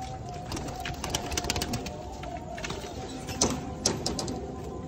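A pigeon sitting close by coos in low, repeated bursts over a steady bed of broadband background noise, with a few sharp clicks scattered through.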